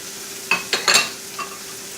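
Spinach being stirred into a cooking pot, a few quick scraping strokes of a utensil against the pot over a low background hiss.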